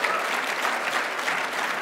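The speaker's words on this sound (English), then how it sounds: "well-deserved applause." Audience applause at an awards ceremony for journalism honors, a dense, steady wash of clapping from a large crowd with no break across the whole stretch.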